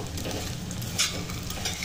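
Gond (edible gum) roasting slowly in a pan over a low flame gives a continuous soft sizzle and crackle, close by, with a brief stirring scrape.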